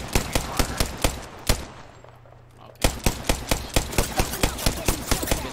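Rapid automatic gunfire in the Apex Legends video game, a loud, close burst of evenly spaced shots that pauses briefly before a second long volley resumes at the same steady rhythm.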